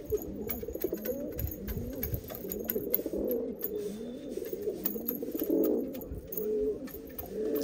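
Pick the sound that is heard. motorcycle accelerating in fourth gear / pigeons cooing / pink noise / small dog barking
pigeons cooing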